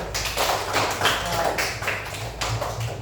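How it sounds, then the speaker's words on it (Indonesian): A class applauds group number 2 during a volleyball passing lesson with quick, close rhythmic clapping in bursts, while voices talk over it. "Tepuk tangan untuk kelompok"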